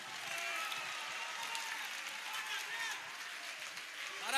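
A church congregation at Lagoinha Barra Funda claps loudly together, a steady, dense patter of applause that carries on without pause and swells slightly at the end.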